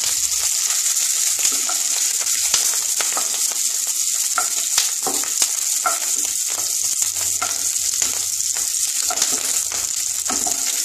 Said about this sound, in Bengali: আমি ফুলকপিটা ভাজা হয়ে গেছে,